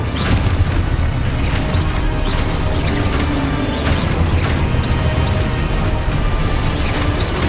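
Loud, repeated smashing booms and crashes ring out as Confringo blasting spells explode in Hogwarts Legacy, the blasts layered over a constant roar of combat effects and whooshes.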